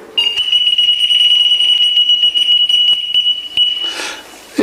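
A radiation dosimeter near containers of radioactive isotopes gives a steady high-pitched electronic beep that holds for about four seconds, with a few faint clicks and a brief rustle near the end.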